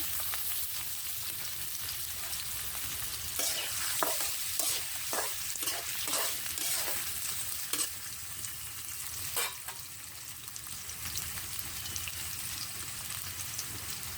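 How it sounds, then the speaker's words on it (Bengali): Diced potatoes in soybean oil frying on a clay stove, a steady soft sizzle with a run of rhythmic spatula scrapes and taps through the middle, then a quieter sizzle. "এখন আলুটা একটু ভেজে নেব।"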